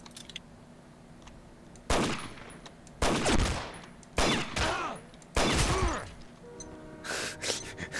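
Gunfire in the video game Combat Arms: several loud bursts of automatic fire, each about a second long, come in irregular rounds with shell clinks and brief gaps, close and punchy.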